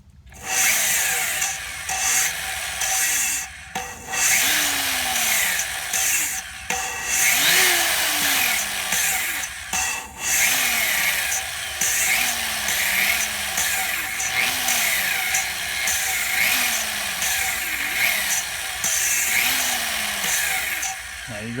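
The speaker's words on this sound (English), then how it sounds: "you put more grinding compound on it, you're still going to get a grinding noise" Continuous rough grinding and rasping from a power drill lapping an engine valve against its seat with grinding compound, metal against metal, steady and close, with brief pauses and a rhythmic scraping pattern throughout.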